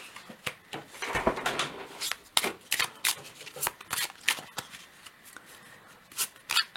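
A deck of oracle cards shuffled by hand during a reading, giving a close series of quick papery riffles and soft slaps in an uneven, repeating rhythm.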